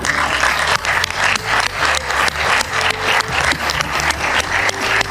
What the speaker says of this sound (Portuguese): Quero pedir-lhes a todos enorme aplauso para celebrar o retorno de Brasil à la CELAC